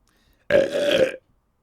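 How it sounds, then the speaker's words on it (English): One loud, drawn-out burp, about a second long, with a throaty tonal rumble, standing alone in near silence. "None of us chose to hear that burp."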